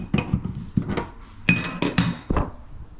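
Metal tools clinking and tapping against a hot water tap fitting under a plumbing install, a series of sharp, close knocks and chinks at irregular intervals with no talking.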